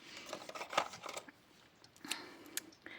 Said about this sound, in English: these are excellent scissors for cutting beading thread.